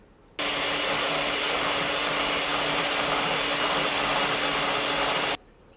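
Banana muffin batter being mixed by machine, a steady, close motor whir that starts abruptly, holds even for about five seconds and cuts off sharply.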